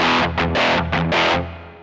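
An electric guitar plays through a ZOOM G1 X FOUR multi-effects processor with its delay switched off, giving loud, distorted strummed chords in a few quick bursts that ring out and fade at the end.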